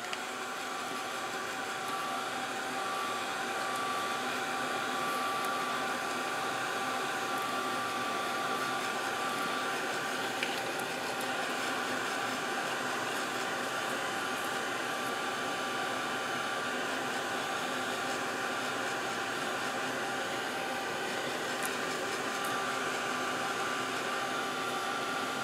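A heat tool melts embossing powder on chipboard, giving a continuous, even blowing whir that holds at the same level throughout, with no talking.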